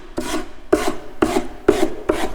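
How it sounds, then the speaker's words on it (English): Five rhythmic rasping strokes of a sanding block easing the edge of an end table top, evenly spaced and close, with no voices. "you just want to come through the sanding block like this, and then hit your sides of your project"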